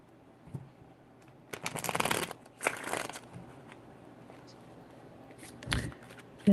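Close, fairly quiet shuffling of a tarot deck in two riffling bursts, then a few light card taps and a final soft slap.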